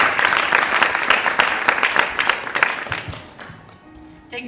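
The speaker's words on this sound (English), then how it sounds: "I just wanted the audience to give a big round of applause to Sanjay Bhai today" An audience at an Easwaramma Day celebration gives a sustained round of applause that thins out toward the end, with a voice starting to speak as the clapping fades.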